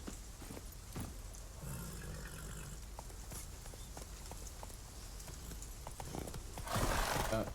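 A horse clops up stairs in the video game The Witcher 3, producing faint, irregular hoof knocks over a low rumbling background, with a louder burst of noise near the end.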